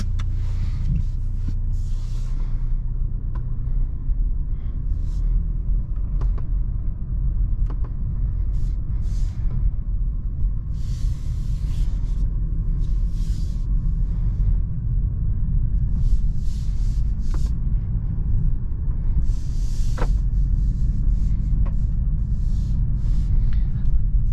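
A 2023 Mercedes-Benz C300 sedan on the road, heard from inside the cabin as a steady low engine and tire rumble with faint road noise and occasional small knocks.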